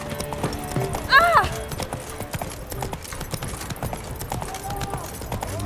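Roach the horse from The Witcher 3 trotting in game, with quick rhythmic hoof clops throughout and a brief whinny early on, under a busy game soundscape.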